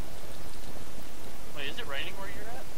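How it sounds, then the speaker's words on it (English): Rain falls during a thunderstorm in the game Minecraft, a loud, steady hiss filling the whole moment while a voice speaks over it briefly near the end. "Ah, it's raining outside."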